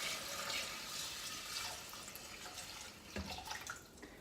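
Water running into a Thermomix simmering basket set inside a 2.6-litre Thermoserver to soak, a soft, faint rushing splash that thins out near the end before a few brief louder splashes.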